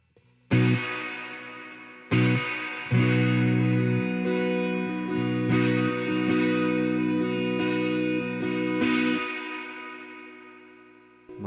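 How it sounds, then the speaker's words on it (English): Electric guitar chords through a Holy Grail reverb pedal set to maximum, several strummed hits ringing with a long, thick reverb tail that lingers and slowly fades, loud and close with no talking. "Now the Holy Grail sounds a lot thicker. And there's a lot more reverb, at least the duration of it."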